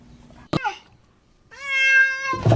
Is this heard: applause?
no